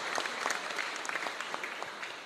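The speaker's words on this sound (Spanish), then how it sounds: "Fuerte aplauso entonces para el Señor." Congregation applause at a parish Mass at San Miguel Arcángel, a fairly soft, crisp patter of many hands clapping steadily, slightly fading toward the end, with no talk over it.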